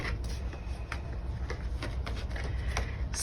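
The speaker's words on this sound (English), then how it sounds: "this deck is kind of big, so I have to shuffle it kind of slowly" A large deck of tarot cards is shuffled slowly, giving soft, steady riffling taps and clicks with no talking.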